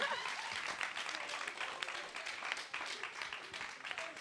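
Quiz-night audience at a cultural association event clapping steadily together, a dense fairly distant round of applause that holds for several seconds without any talk over it.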